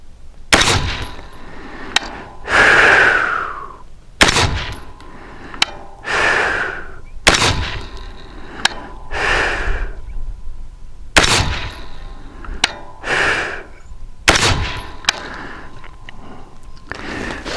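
Rifle shots from an RDB Zero fired at a steel target, comparing 62 and 75 grain ammunition with pencil and medium barrels, with and without a flash hider: about eight loud, sharp cracks, each followed by a ringing ping from the target.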